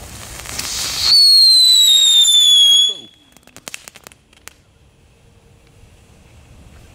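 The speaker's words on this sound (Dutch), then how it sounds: "Kijk, dan is dat eigenlijk vuurwerk waar meer geluid vanaf komt" A loud Dutch firework lets out a shrill whistle that slowly falls in pitch for about two seconds, then cuts off into a scatter of sharp crackling pops and snaps that fade into quiet.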